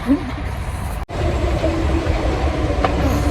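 A metro train rumbles steadily nearby with rattling wheels, briefly cut by a sharp break before the rolling noise resumes.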